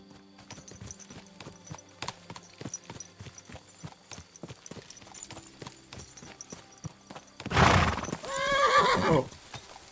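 Steady clip-clop of hooves in a rapid rhythm, then a loud, close horse whinny near the end.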